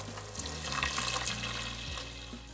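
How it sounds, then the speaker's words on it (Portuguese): Shrimp cooking broth pouring into a pan for shrimp rice, a steady close liquid stream running throughout with gentle splashing and a low bubbling undertone. "Vou agora adicionar o caldo que cozeu o camarão, para depois adicionar o arroz."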